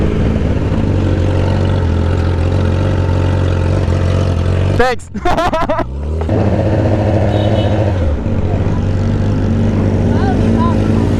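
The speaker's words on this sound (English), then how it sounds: "We have loud bikes." Loud motorcycle engines drone steadily and close throughout, with a brief burst of revving in the middle, while a rider talks over the noise.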